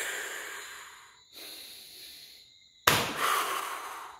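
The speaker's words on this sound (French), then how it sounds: "C'est ce qu'on appelle le souffle." Forceful breath exhalations demonstrated in a martial arts breathing lesson, three long hissing blows close to the mic, the last one the sharpest and loudest, with no talk over them.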